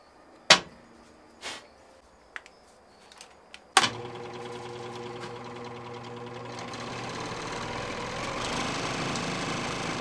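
A few sharp knocks and clatters come first, then a power tool spins up and keeps running with a steady mechanical drone while walnut wood is cleaned up with a router or sander.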